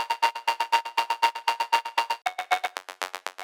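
A harsh, distorted Serum synth is chopped by an LFO into rapid even pulses, with delay, reverb and a steep low cut leaving it thin and airy. A noisy texture shifts midway, and no one speaks.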